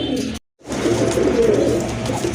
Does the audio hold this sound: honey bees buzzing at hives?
no